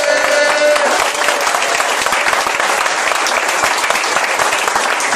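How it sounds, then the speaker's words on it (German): Dense applause from a studio audience at a football fan talk show after a derby, steady and loud throughout the clip with no break. "Ja, vielen Dank für den aufbauenden Applaus,"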